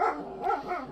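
A dog barks close by, a quick run of three short, loud barks packed into one second, with no talking over it.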